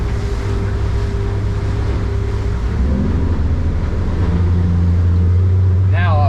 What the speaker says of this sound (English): So now I'm going to steer this boat here.